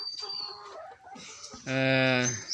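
A farm hen clucks after laying an egg, with scattered calls early on and then a loud, sustained, strongly pitched squawk near the end, close to the microphone.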